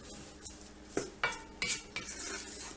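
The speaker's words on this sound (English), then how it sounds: "I'm sweating up the onions right now. Got it on a fairly low heat." Onions sweat in a pan over low heat for marinara sauce. A quiet background hiss sits under several sharp clinks and scrapes of a metal utensil against the pan, spaced unevenly, with no voices.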